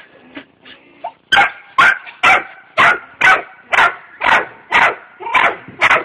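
A five-month-old puppy gives a few soft whimpers and yips, then settles into a run of about ten loud, evenly spaced barks close by.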